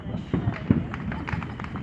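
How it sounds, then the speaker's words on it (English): Fourth of July fireworks pop and crackle outdoors in a quick irregular series of sharp bursts, moderately distant, with people talking among the bangs. "Yeah, over here there's like constant fireworks now."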